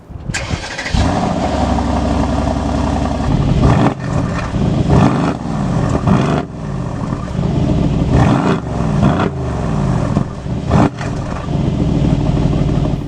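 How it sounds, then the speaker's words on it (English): A 2019 Mercedes-AMG GLC 63 Coupe with the standard AMG Performance exhaust starts up, then revs repeatedly in loud, close bursts with sharp blips and throaty rises and drops over a steady idle. "it sounds pretty good too with the standard AMG Performance exhaust"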